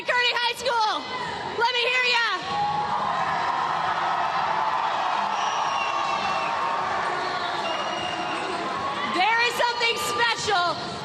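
A Kearny High School pep rally crowd in a gym roars and cheers continuously, with an announcer's amplified voice talking over the noise at the beginning and end.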